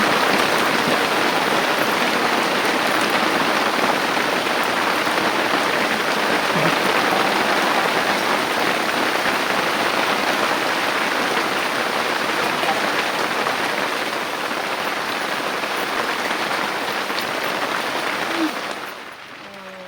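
A sudden heavy rain at night pours down as a loud, dense, unbroken hiss of drops hitting surfaces, holding steady for most of the stretch before easing slightly near the end.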